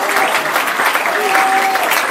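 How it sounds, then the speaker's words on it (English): Church congregation clapping together at an evening revival service, brisk steady handclaps filling a short stretch, close and loud with voices mixed in. "Clap for Jesus."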